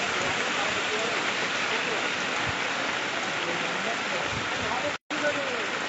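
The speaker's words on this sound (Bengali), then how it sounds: "রাত থেকেই বৃষ্টি, অবিরাম বৃষ্টি চলছে, সাথে ঝোড়ো হাওয়া।" Steady, continuous rain with gusty wind rushes evenly throughout, a dense wash of sound broken by one brief cutout near the end.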